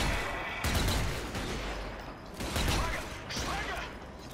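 Pistol gunfire in the zombie shooter Zombie Army 4, sharp shots repeating at irregular intervals through dense game noise, with a voice talking underneath.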